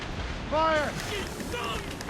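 Ship mortar fire in the naval combat of Assassin's Creed Rogue: a heavy boom and rumbling blast rise over battle noise, while shouting voices and tonal game audio play over it.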